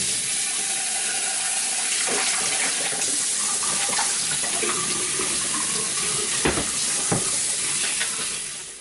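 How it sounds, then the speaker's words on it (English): A washable filter from a Hoover WindTunnel vacuum is rinsed under a running tap, giving a steady, close, full rush of water that flows without a break, with a few soft knocks near the end. "Run it under the pipe."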